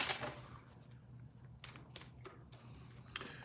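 Reading cards are shuffled by hand close up in several soft, papery riffles and slides, fairly quiet against a low background hum.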